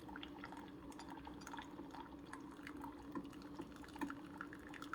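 A Keurig K-Supreme Plus coffee maker pouring hot water into a coffee cup, a faint steady trickle and splash running continuously with a low machine hum beneath it, no one talking.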